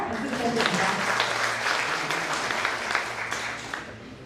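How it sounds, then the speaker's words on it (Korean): At a briefing for a regional housing cooperative project, the audience claps after partner company representatives are introduced. The applause is steady and moderate, with a voice partly audible underneath. "박수 부탁드립니다."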